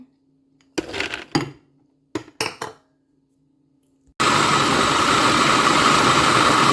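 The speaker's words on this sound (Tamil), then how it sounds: "இப்போ இதெல்லாம் போட்டு எல்லாத்தையும் அடிக்கெடுப்போம்" A mixer grinder powders nutritious flour ingredients for a health mix, starting loud and steady after a few brief clatters of items being dropped into the jar, then roaring continuously at close range.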